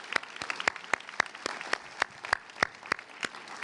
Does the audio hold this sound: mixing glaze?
no